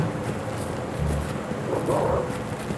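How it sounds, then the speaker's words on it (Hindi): A creature in a horror video game set in a parking lot lets out low, dog-like barks and yelps, faint and brief against a steady windy background, with no speech over it. "वो कुत्ते की तरह भौंक रहा है भाई"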